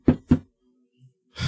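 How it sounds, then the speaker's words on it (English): Two sharp knocks on a door in quick succession, fairly close, followed by a pause and then a burst of broader noise. "And he knocks again."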